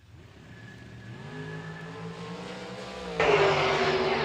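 Engines of dragsters at a drag strip rise in a sustained, building drone, the pitch climbing steadily before a sudden louder roar near the end, heard from a distance with no talk.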